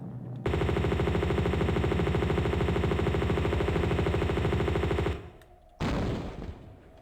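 Sustained M16 automatic fire in the Tomb Raider video game rattles loud and steady for about five seconds, then stops abruptly, followed by a short final burst.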